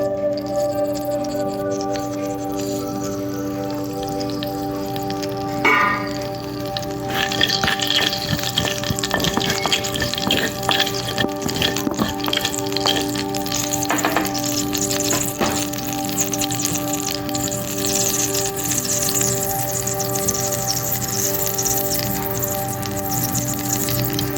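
Mustard seeds spluttering in hot oil for a tadka for chutney, a steady close sizzle with scattered crackles and pops growing busier partway through, no talking.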